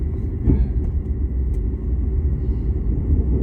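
A car rolls at about 35 over a bumpy road, a steady low rumble with uneven thumps and jolts, loud and close throughout with no talking.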